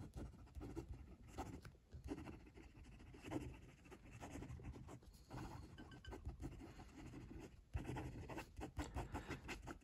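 Big Idea Design EDC fountain pen writing quickly on paper: a close, continuous scratchy nib sound with rapid strokes and brief pauses, quiet and with no voices.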